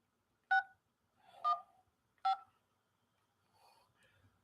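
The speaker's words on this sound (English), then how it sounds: "Let's call his cell number." A phone keypad dialing a cell number: three short, separate touch-tone beeps at an uneven pace, heard alone and fairly quiet, with faint soft noises after them.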